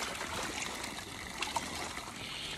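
Cold water runs steadily into a pigs' mud hole on a farm, a faint continuous trickle and splash with no voices.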